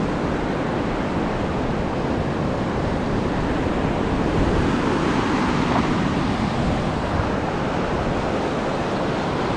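Sea surf where a river opens into the sea at Los Caracas, La Guaira, Venezuela, a steady, loud broadband wash of breaking waves that continues without a break, with no voices.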